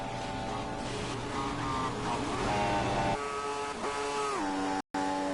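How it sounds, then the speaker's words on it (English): Formula One cars in the F1 2016 racing game howl at maximum revs during the Italian Grand Prix, a loud, sustained high-pitched engine whine with shifting harmonic pitch and a brief cut near the end. "these cars, they sound terrible when they max out"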